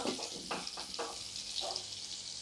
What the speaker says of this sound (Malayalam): ഇനി പുളിശ്ശേരിയിലേക്ക് ഈ കടുക് താളിച്ചൊഴിക്കാം